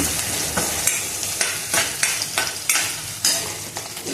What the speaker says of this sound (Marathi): छान फोडणी तयार झालेली आहे